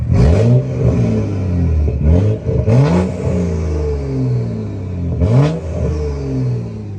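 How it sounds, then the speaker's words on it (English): A loud car engine in sport mode revs several times in quick bursts, the pitch climbing and falling, with a raspy exhaust growl between rises. "let's put it in sport mode and see what this car sounds like"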